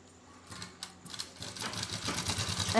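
A sewing machine stitches two matched pieces of suit fabric together, its rapid mechanical whir building steadily louder over nearly three seconds with no talking.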